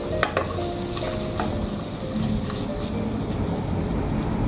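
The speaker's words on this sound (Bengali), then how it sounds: "আমার মাছগুলো ভাজা শেষ প্রায়।" Fish heads fry in a pan for a curry with mung dal, a steady sizzle running throughout with a couple of light scrapes of a spatula near the start.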